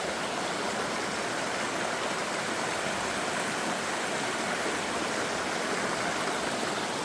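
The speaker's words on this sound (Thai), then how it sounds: "น้ำตกตาดพี่น้องเอ้ย" Steady rushing water of a forest waterfall, a dense continuous broadband roar that stays even and close throughout with no voices.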